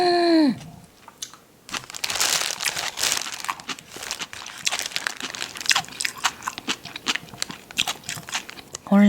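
Crisp, wet crunches of radish kimchi (musaengchae) being chewed close up, irregular bites and crackles following a short voice at the start.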